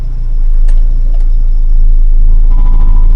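Small Iseki tractor engine, with a stuck clutch, roaring loud and close as it labours, a heavy low rumble and churn with a few clanks and a rising whine near the end.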